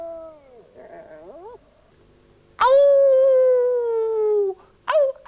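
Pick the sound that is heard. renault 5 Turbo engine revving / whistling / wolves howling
wolves howling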